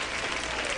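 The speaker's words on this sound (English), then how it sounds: "give me a round of applause there, please" Audience applause in a live street broadcast setting, a dense, even wash of clapping heard briefly and close without a break.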